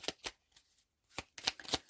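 Cards of a fairy oracle deck riffle and slap in quick bursts, close and crisp, with a brief pause midway before another flurry of shuffling.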